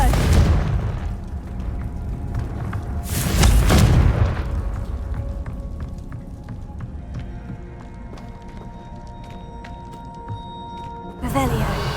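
In the Hogwarts Legacy video game, a Confringo fire spell bursts into a booming explosion with a heavy low thud, followed by a ringing game soundscape and another sharp blast near the end.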